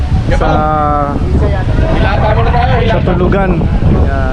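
Strong wind buffets the microphone in a continuous loud roar during a motorbike adventure ride stop, with people talking over it throughout.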